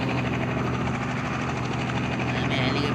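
A helicopter's engine and rotor heard close up, a loud continuous whine and throbbing beat filling the whole stretch, with voices talking over it.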